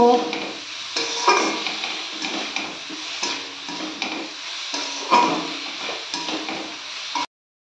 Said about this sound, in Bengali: গ্যাসের ফ্লেম মিডিয়াম টু হাইতে রেখে আমি কুলগুলো 4-5 মিনিট ভালোভাবে ভেজে নেব